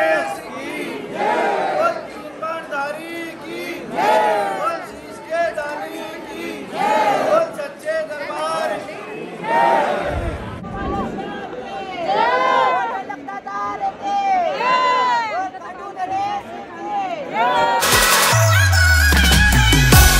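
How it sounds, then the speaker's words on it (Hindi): A dense crowd crushes together on New Year's night, with loud overlapping voices, shouts and rising cheers from many people close by, ending in a burst of harsh noise. "गजब भीड़ है।"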